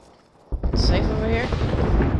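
Airstrike explosions in Apex Legends, a sudden deep boom bursting in after near silence and rumbling on loudly with crackling debris, a voice speaking over it.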